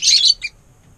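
African lovebirds kept as breeding pets give a loud, shrill burst of chirps close by, then a brief second squeak before quiet.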